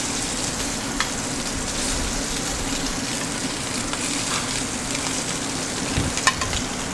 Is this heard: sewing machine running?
no